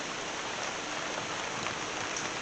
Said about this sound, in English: me can't come out of the rain